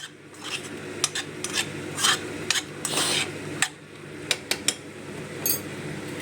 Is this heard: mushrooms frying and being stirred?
yes